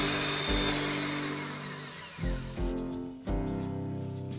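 An electric mixer beats a creamy eggless tres leches cake batter with vanilla essence, a loud steady whirring drone with shifting pitch, briefly interrupted by a few bumps and restarts near the end.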